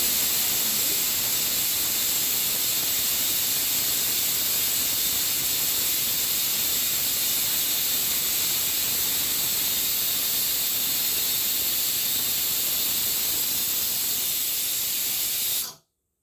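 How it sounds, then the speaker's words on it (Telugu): Steady, loud hiss of steam escaping under pressure from a pressure cooker whistle, continuous for the whole stretch before cutting off abruptly at the end. "వచ్చేస్తుంది విజిల్."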